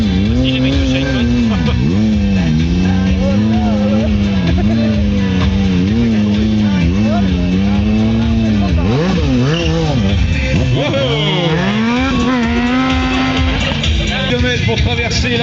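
A car drifting at an outdoor stunt show, a loud continuous engine roar with rising and falling revs and tire squeal, dense and unbroken across the whole stretch, with a voice commentating over it.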